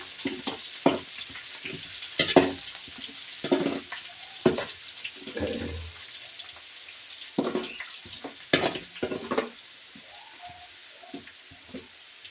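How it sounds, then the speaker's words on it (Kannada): Garlic frying in oil until golden brown for North Karnataka masala churumuri, a steady close sizzle broken by repeated scraping stirs and utensil clinks, with a brief run of tap water near the end. "ಬೆಳ್ಳುಳ್ಳಿ ಇದರಲ್ಲಿ ಗೋಲ್ಡನ್ ಬ್ರೌನ್ ಬರುವ ತನಕ ನಾವು ಎಣ್ಣೆಯಲ್ಲಿ ಕರಿಬೇಕು"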